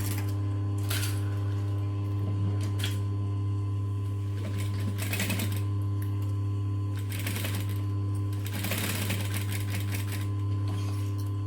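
A sewing machine stitches a diamond pouch in steady bursts, running in short runs broken by brief pauses for pivoting, close and clear with no talking.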